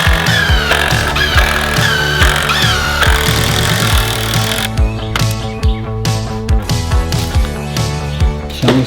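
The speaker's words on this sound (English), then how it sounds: "I'll screw them into the studs in the wall" Power tool driving screws through boards into wall studs during a bathroom renovation, heard as a series of loud, repeated mechanical bursts with ratcheting, whirring motor surges and short pauses between them.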